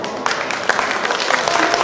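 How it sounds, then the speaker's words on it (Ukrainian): Brisk applause from an audience at a children's Christmas song theatre concert in Ternopil, a dense patter of many hands, fairly loud and steady with no talk over it. "Дякую, це вам оплески"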